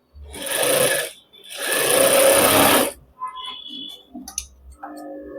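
A sewing machine stitches a shirt pocket with straight topstitching in two steady runs, a short burst and then a longer one, followed by quieter clicks and fabric handling close by.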